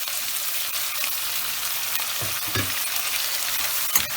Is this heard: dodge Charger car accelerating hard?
no